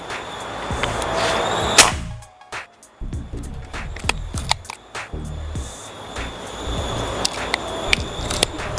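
A Predator OD 38 PCP air rifle with a stacked chamber fires one loud, sharp crack, followed by a series of quieter mechanical clicks and knocks in a busy outdoor setting.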